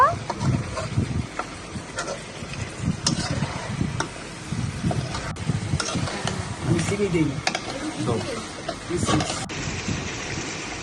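Fried chicken pieces being stir-fried in a pan for korma, with continuous sizzling and repeated scraping stirs of a spoon against the pan, close up, with a voice talking over parts of it.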